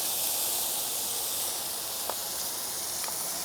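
Beef for a chopped cheese searing on a flat griddle, giving a steady, bright hiss that holds evenly throughout, close up, with a couple of faint ticks and no voices.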